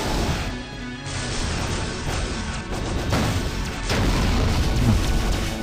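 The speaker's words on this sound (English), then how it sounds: "This plasma gun is rather short-ranged." Plasma gun blasts and explosions in a space starfighter combat game, a steady stream of loud booming and crashing hits with sharp bursts, dense and continuous throughout.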